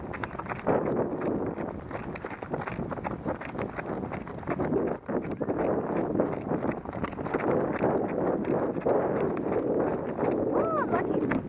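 Horse hooves clip-clop steadily along a trail during a horseback ride, a continuous rhythmic plodding close by, with wind buffeting the microphone and occasional birdsong near the end.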